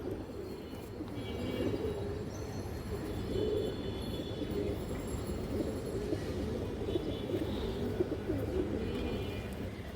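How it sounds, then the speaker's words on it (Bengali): Pigeons coo steadily at close range over a low background hum, with soft bird calls continuing through the whole stretch and no voices. "এই দেখেন নটটা খুব সুন্দর কৌতর দুটো"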